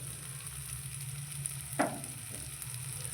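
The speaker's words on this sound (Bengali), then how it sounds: "লঙ্কাগুলো আমরা এই তেলেতেই ভেজে নেব" Chillies frying in hot oil in a pan give a steady low sizzle, with one brief stir or clatter partway through and no talk.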